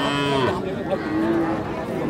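A calf at Kakan cattle market in Rajshahi gives a long, loud, close moo with a wavering pitch over the constant murmur of the crowded livestock fair.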